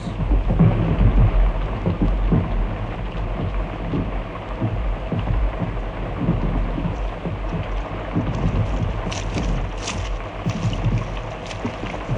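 Heavy rain pouring steadily over a First World War battlefield, a dense continuous hiss with deep thunder rumbles rolling underneath throughout, no voices.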